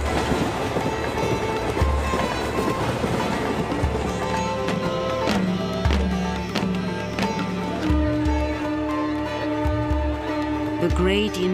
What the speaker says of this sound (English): For nothing is more a part of this country than the trains, which are part of its soul.